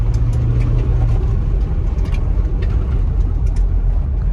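An Isuzu MU-X 4x4 engine at full throttle, a loud, steady, droning roar with road noise heard from inside the cabin, continuous for several seconds with no talk.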